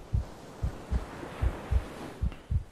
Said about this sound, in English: And that heartbeat.